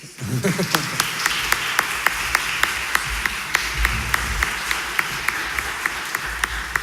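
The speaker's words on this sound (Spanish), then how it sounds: "Un aplauso para las expositoras." Audience applause for the speakers at a seminar on migrants and international protection held at the Supreme Court, a steady, full round of clapping lasting the whole stretch over a low room hum.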